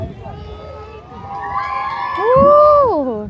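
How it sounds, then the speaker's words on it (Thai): Spectators cheer at the side of the course during a rowing boat race at the Nong Luang boat festival in Laos, voices shouting and swelling into a loud, sustained cheer near the end. "เสียงอันเชียร์อยู่ข้างสนาม"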